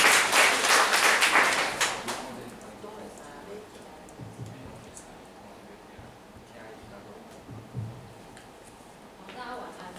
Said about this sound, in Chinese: 那我们现在先热烈掌声欢迎